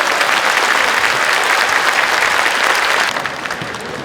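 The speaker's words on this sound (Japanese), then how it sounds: "皆様今一度大きな拍手をお送りください。" A large audience at a sumo retirement hair-cutting ceremony for Akiseyama claps again, a loud, dense burst of applause that holds steady before easing slightly at the end.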